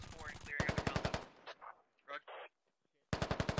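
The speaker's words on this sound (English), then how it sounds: "They're shooting through the fucking wall." Gunfire in the military video game Squad comes as two loud, rapid automatic bursts, separated by a short pause with scattered softer sounds.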